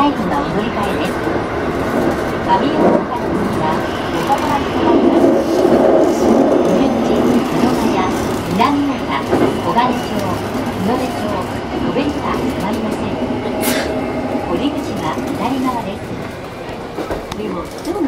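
A Keikyu Line 1000 series stainless steel limited express train runs between Kanazawa-bunko and Kamiooka, its rumble and wheel noise steady and close throughout, heard from onboard.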